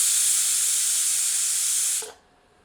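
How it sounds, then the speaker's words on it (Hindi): Steam hisses sharply and loudly out of a pressure cooker holding guinea fowl curry, a steady high rush that cuts off abruptly after about two seconds. "स्टीम रिलीज करते हैं।"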